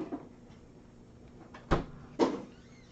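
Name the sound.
cupboard door swinging open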